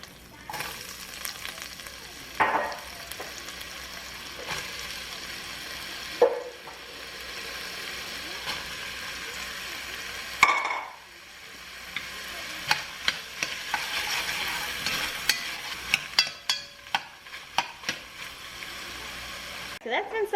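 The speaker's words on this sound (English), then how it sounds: "add the onions, carrots, and celery and saute that for about 3 minutes" Onions, carrots and celery sautéing in oil in a soup pot, a continuous close sizzle with spoon stirring and scraping clicks, swelling when the vegetables are moved, with occasional speech over it.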